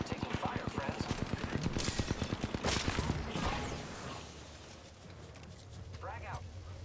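Rapid automatic weapon fire in Apex Legends, a fast even burst of sharp shots for about three seconds, then trailing reverb and quieter game sounds, with voices speaking over the action.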